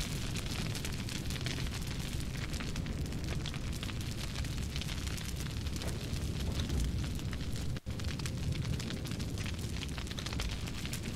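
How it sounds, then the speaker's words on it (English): An explosive charge blasts open a door during a Conan Exiles raid, heard as a continuous roaring, crackling rumble that holds steady for the whole stretch, broken only by a momentary cut near the end. "Oh, you're blowing open his door?"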